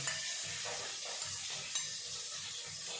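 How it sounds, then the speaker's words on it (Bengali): Pabda fish frying in a pan: a continuous hiss of oil with low, regular bubbling pulses repeating about every half second, close and moderately loud. "মাছগুলো ততক্ষণ ভাজা হোক"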